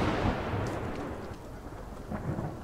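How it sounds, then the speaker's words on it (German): Thunderstorm in the video game The Medium: a deep rolling thunder rumble with rain hiss, loud at the start and slowly fading, then swelling slightly again near the end. "Ach, das war das Gewitter."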